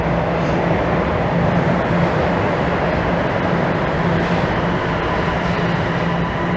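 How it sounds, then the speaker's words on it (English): A noisy train rolls in along a Toronto street, a loud, continuous rumbling and rattling roar of wheels on rails that fills the whole stretch without letting up. "As a noisy train rolls in and interrupts us."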